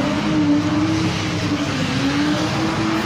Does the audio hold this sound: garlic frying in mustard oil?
no